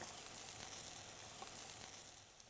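Flour-coated seitan pieces frying in oil for a roasted vegetable stew: a steady, dense, close sizzle with fine crackling throughout.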